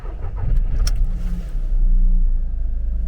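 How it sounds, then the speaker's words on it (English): A VW Polo with nearly 200,000 miles starts up and runs close by, a loud, low rumbling idle with uneven surges and no talking over it. "Listen to that engine."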